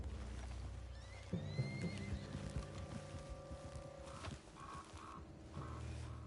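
A horse in the video game Red Dead Redemption 2 whinnies amid stamping hooves and faint rustling, with a few brief tonal calls following later.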